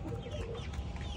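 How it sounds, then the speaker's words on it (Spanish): Hens clucking steadily and close by as they peck at crushed eggshells fed as a calcium supplement, a busy, continuous flock murmur with soft low scuffling underneath and no talking. "me quedo yo disfrutando de estas preciosas gallinas que están comiéndose ya su calcio"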